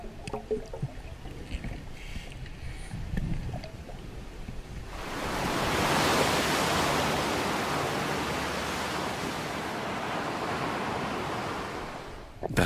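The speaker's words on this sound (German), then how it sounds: "Das Meer ist aufgewühlt, Sicht nur eine Armlänge weit." A rough, churning sea with surf roars as combat swimmers cross a kilometre of open water toward a beach. Faint water and wind noises open, then a dense, loud, steady wash of breaking waves takes over.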